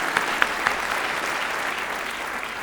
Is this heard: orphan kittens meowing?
no